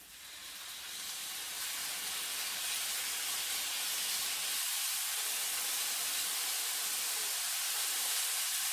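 Beef dropped into a hot pan with garlic for a celery and beef stir fry, giving a loud, steady hiss that swells after the first second and holds broad and continuous, with no talking.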